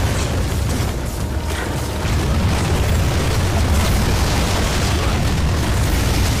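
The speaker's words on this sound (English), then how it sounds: "Chuck those grenades!" Grenade explosions in the icy Lost Planet: Extreme Condition game make a dense, loud, continuous roar of low booming rumble that runs without break.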